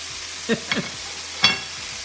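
Tomato tumbles into a hot frying pan already holding broccoli, giving a few quick soft thuds and clatters over a low, steady sizzle.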